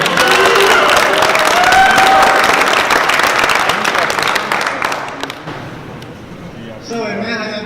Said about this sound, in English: please give a big round of applause for our talented Mr.